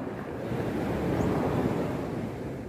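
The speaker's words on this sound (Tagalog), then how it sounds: "Dito kami sa dagat ngayon." Sea waves washing onto a beach, a steady broadband surf roar with wind buffeting the microphone, continuous and fairly loud throughout, with no voices.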